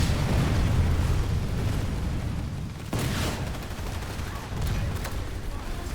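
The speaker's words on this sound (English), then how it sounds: "A typical anti-air lock-on weapon, the projectile guidance leaves a lot to be desired, but at least you can dumbfire versus tanks" Rockets from the ASP-30 Grounder launcher in the Planetside 2 game explode in a loud, continuous barrage of booms and blasts, dense and chaotic throughout with no quiet gaps.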